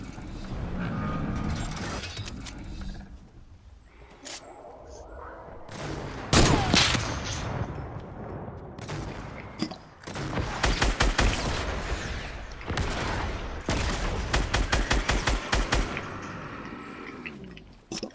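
Rapid bursts of gunfire from the game Fortnite, with dense, clicky mechanical shots repeating in tight clusters over a busy game soundscape, loud and close in several stretches.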